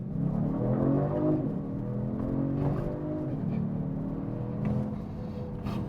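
Engine of a 2026 Genesis G70 AWD revs up hard from a standstill launch, pitch climbing through rising sweeps with a shift dip, heard loud from inside the cabin with road rumble beneath.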